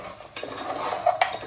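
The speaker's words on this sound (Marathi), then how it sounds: "सगळं वाटप लावून ढवळून व्यवस्थित." A spoon stirs crab curry masala in a pot with a short scraping sweep and a couple of sharp clinks against the metal, heard close and alone over a soft sizzle.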